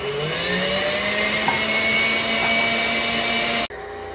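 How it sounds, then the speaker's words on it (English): Electric mixer whipping cream: a loud, steady high-pitched whir with a slowly rising motor tone that cuts off abruptly near the end, then a quieter hum. "I'm going to keep whipping my cream."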